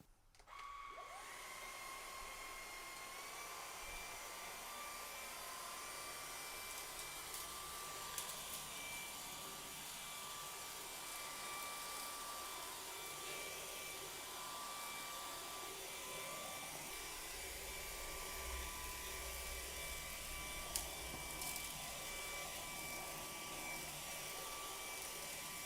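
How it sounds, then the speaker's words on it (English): A Kyvol V20 cordless vacuum cleaner runs with a steady high-pitched whine and airflow hiss, continuous and fairly quiet, with occasional small bumps as it moves. "now go and vacuum different parts of my house using these different brushes"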